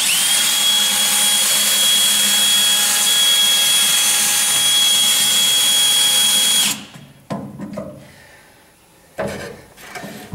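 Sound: DeWalt power drill drilling

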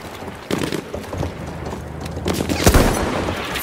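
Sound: cavalry horses galloping in video game Battlefield 1

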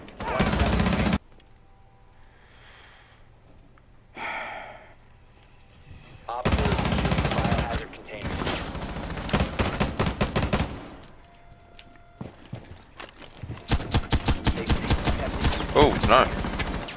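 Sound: gunfire in video game Rainbow Six Siege

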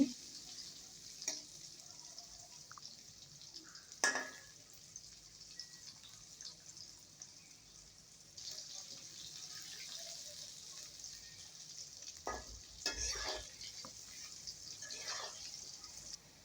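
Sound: stirring potatoes frying with turmeric powder

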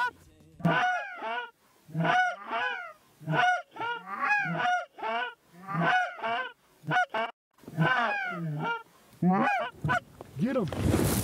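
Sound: Canada geese honking, Montana honkers

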